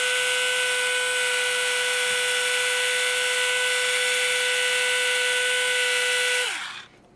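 Tamiya electric handy drill boring into carbon, a loud, steady high-pitched whine held for several seconds before it spins down and cuts off near the end.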